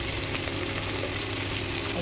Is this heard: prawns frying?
yes